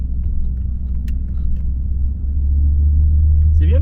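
Audi S2 engine rumbling steadily on the road, a deep continuous low drone that swells slightly as the car pulls, with tyre and wind noise close inside the cabin.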